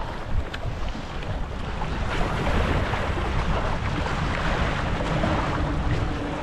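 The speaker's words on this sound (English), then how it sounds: "It's quite windy." Steady wind gusting across an open fishing boat at sea, a broad continuous roar with buffeting on the microphone and water noise beneath, fairly loud throughout with no talking.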